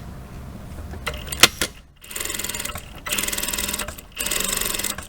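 A sewing machine understitches seam allowances onto a garment facing in three bursts of rapid, steady stitching with short pauses between, preceded by a few clicks, close and loud with no talk.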